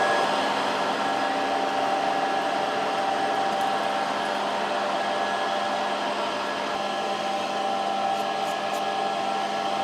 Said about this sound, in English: Let's get drilling. We're drilling 3/4 inch thick plate.